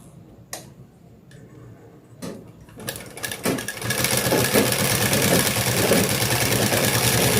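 A sewing machine stitching a salwar pant opens with a few isolated clicks and knocks, then settles into a steady, rapid mechanical whir that runs loud and close to the end.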